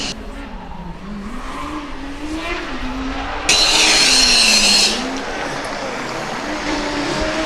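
A Formula Student race car on an autocross lap at the Formula Student Germany event: a steady engine drone rising and falling in pitch as it moves through the course, with a louder, brighter burst near the middle.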